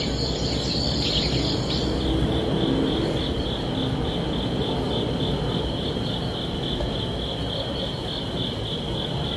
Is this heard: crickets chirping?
yes